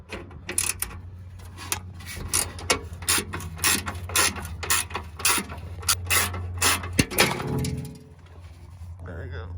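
Close ratchet clicking in quick repeated bursts as a 10mm bolt on a 2006-2011 Honda Civic muffler is backed out, with a low hum underneath and a brief clunk near the end.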